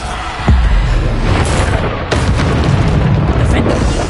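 Repeated Bombarda spell blasts in Hogwarts Legacy: sharp, close explosive booms landing about every second or two over a dense, rumbling battle din, with a voice speaking over the action.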